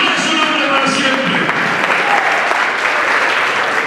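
A church congregation claps hands steadily in a dense, continuous roar of applause, with voices mixed underneath throughout.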